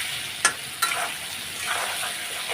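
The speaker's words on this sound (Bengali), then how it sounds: "আমি মশলাটা দিয়ে কষাবো কিছুক্ষণ" Potatoes and spices sauté in a hot pan for a jackfruit curry, giving a continuous close sizzle broken by two quick spatula scrapes early on, with no voices.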